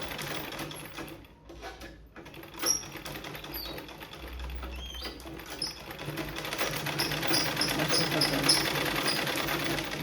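A sewing machine stitches a 2-inch strip onto a prince-cut blouse with four tucks, running in steady mechanical bursts under a faint background hum, with a brief pause before it grows busier and louder.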